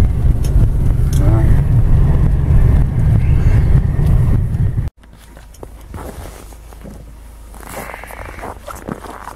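A vehicle drives through a snowy winter forest near the Yenisei, a loud steady engine rumble and road noise for about five seconds, then cutting to a quieter scene with faint rustling and a voice.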